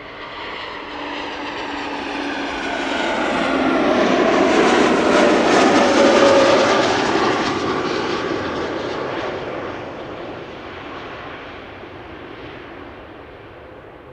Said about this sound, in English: United Airlines going to Houston, taking off from Center A